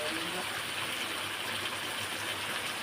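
A steady stream of water pours into a pan of fish curry, a continuous close gushing wash that holds an even level from start to finish.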